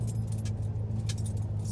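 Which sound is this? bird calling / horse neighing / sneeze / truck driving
truck driving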